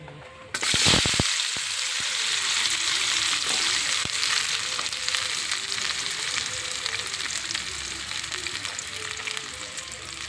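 Small anchovies frying in a pan give a loud, continuous sizzle from start to finish, with occasional light stirring clatter underneath.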